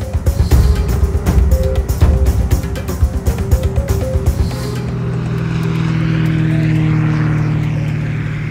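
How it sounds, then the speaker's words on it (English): A small private propeller plane's engine, loud and close, pulses and chugs for several seconds, then settles into a steadier, smoother drone as it keeps running. "I can't believe you own a plane, Peter."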